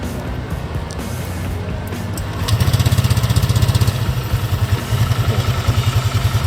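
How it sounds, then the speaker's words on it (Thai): A 2019 Honda Click 150i scooter with about 8,400 on the odometer idles, its low putter turning into a more pronounced rhythmic thumping partway through. "เดี๋ยวลองฟังเสียงเครื่องยนต์กันเลยครับ"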